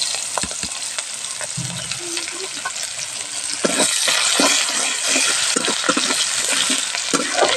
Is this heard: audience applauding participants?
no